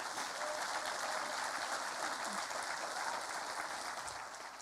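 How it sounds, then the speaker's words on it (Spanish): A church congregation applauds together during a worship service, a steady, dense wash of clapping that fills the room without pause and thins slightly at the end. "fuerte ese aplauso, dale al Señor"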